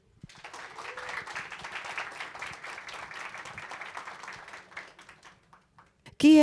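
Audience applause at a panel event on valuing local territories, a steady crowd of clapping hands that fades out near the end before a brief voice cuts in.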